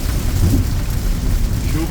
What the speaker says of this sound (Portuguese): Chuva tá apertando.